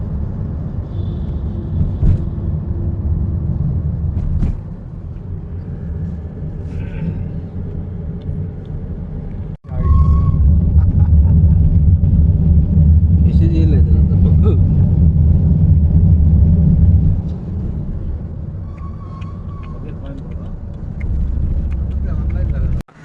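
A car rolling through the Khambatki Ghat tunnel, a loud, steady low rumble of engine and road noise that swells when the tunnel section begins and continues under people talking.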